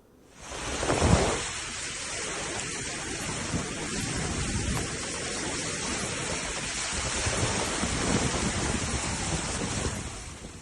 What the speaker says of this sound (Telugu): ఈదురు గాలులతో కూడిన వర్షం పడింది